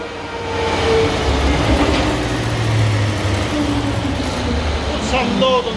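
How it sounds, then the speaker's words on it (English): A 2017 Mercedes GLE 63 with 65,000 km, strapped to a dyno with four-wheel drive locked, roars steadily under load in a loud, sustained drone, with voices talking over it. "Continue and put some load on the engine."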